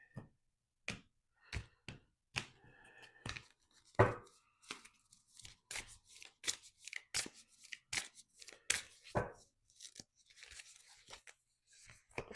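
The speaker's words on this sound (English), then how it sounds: "One more shuffle." Tarot cards are shuffled in a long run of crisp riffles and slaps, irregular bursts of snapping card edges close to the microphone with short pauses between them; no talking.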